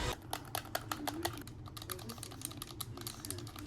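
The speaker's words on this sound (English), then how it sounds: "The buttons are very clicky and it feels good in your hands." Rapid clicking of buttons on Pico 4 Enterprise VR controllers, a quick irregular run of sharp, close taps over a low background hum, with no talking.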